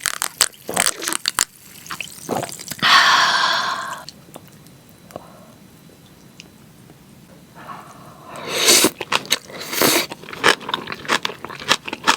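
Close-up eating of spicy braised boneless monkfish with octopus, roe and milt, with wet squishy bites, chewing and slurping in bursts, quieter chewing in the middle, and no talking.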